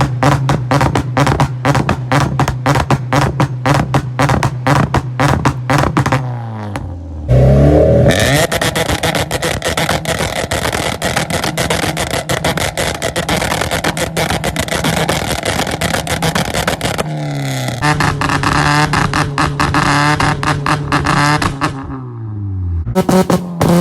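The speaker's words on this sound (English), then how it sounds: "It's gonna be a lot better than the classic wum bum bum ricer two-step that comes with all these cars." A Honda's two-step launch control holds the engine at a rapid stuttering rev limit, loud and close, with harsh popping bursts, short breaks and renewed rev climbs across a long stretch without talk.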